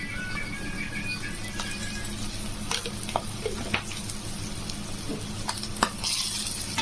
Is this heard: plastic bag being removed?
no